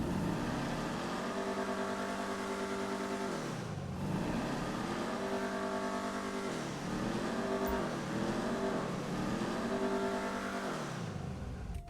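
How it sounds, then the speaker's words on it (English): Enus Stafford car in GTA Online revving hard, its engine climbing and dropping in repeated pulls with a rough harmonic growl, loud and close, without talk. "Let's listen to this thing."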